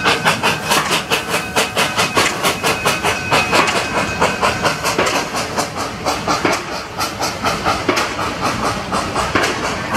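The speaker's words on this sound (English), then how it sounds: "There's the choo-choo." A small zoo train at Omaha's Henry Doorly Zoo rolls past with a steady clickety-clack of wheels over rail joints and some hissing, fairly close and continuous, with no talk.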